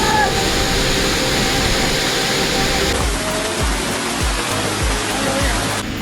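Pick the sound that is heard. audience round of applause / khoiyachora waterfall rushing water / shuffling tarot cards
khoiyachora waterfall rushing water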